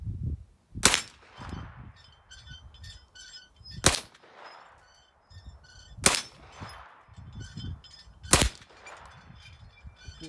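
Four loud, evenly spaced gunshots ring out outdoors, each followed by a bright metallic clang from steel targets and a gong, with the ringing decaying between shots.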